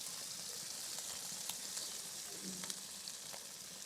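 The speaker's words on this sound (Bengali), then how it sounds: "এবার সয়াবিন গুনাও ভালো করে কষি নেবো" Fried soybean chunks stir-frying with potatoes in spice paste, a soft steady sizzle with light scraping stirs and occasional spatula taps, close and fairly quiet.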